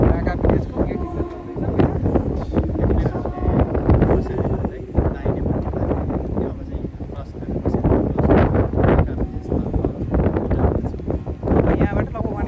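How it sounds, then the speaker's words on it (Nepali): Strong gusting wind roars across a mountain trail near the Braka village gate in Manang Valley as rain begins, a loud buffeting rumble on the microphone sustained throughout, with a voice speaking intermittently beneath it. "अब हावा चाहिँ एक्सट्रिम चलिरहेको छ अनि पानी पर्न थाल्यो।"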